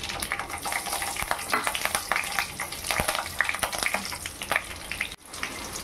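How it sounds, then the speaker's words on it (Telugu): Cumin, mustard seeds and chopped green chilies crackle and sputter in hot oil for an omelette gravy curry, a steady close sizzle with sharp popping bursts and faint stirring, no voices. "ఆయిల్ వేడెక్కిన తర్వాత జీలకర్ర, ఆవాలు వేసుకోవాలి। పచ్చిమిర్చి ముక్కలు వేసుకోవాలి।"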